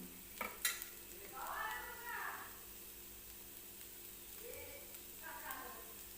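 Fenugreek leaf bhaji with crushed peanuts cooking in a pan on a gas stove, soft intermittent stirring scrapes and quiet sizzling in a kitchen, preceded by a couple of brief clinks.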